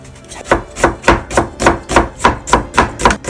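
A knife chops vegetables into thin strips on a cutting board for Korean pancake batter, about ten loud, close strokes in a steady, even rhythm.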